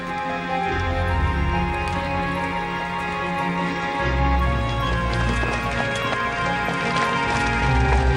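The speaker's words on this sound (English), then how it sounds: "the famous Camargue horses are descendants of the ponies that roamed through ancient Gaul" Camargue horses running, a steady clatter of hooves under sustained music, with no voices and a fairly constant level throughout.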